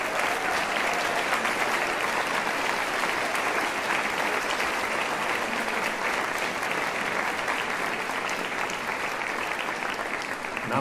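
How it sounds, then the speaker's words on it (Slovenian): Audience applause for the honorary soloist at a student choir's annual concert, a steady, dense clapping from a large crowd sustained at an even, loud level for about ten seconds. "En aplavz, prosim, za Evo Gregorc."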